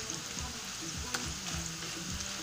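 Corn tortillas fry in a pan with a low, even sizzle, close by, while soft scraping knocks from a utensil recur every half second or so.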